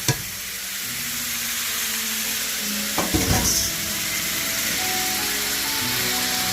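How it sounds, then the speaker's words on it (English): Steaks simmering in a pan with beef broth, red wine and vermouth, giving a steady close hiss and bubbling, broken briefly by a clatter of utensils partway through. "Okay, so I have our steaks simmering in the beef broth with wine."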